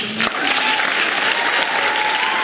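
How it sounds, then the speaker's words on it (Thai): A loud, dense applause sound effect plays, continuous crowd clapping that stays even and full from start to finish with no voices. "อันนี้คือจะเป็นเสียงการปบมือนั่นเองนะคะ"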